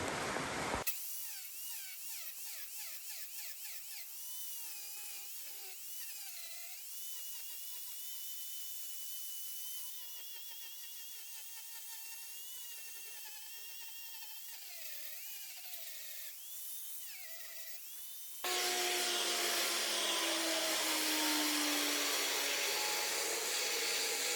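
Power carving wood for a 460-pound Fontanini anvil mount: a steady high whine of a rotary carving tool with wavering pitch as it bites into the wood, running continuously for most of the stretch before giving way to a louder broadband rush.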